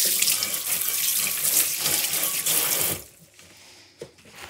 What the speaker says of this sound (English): I need to rinse right quick.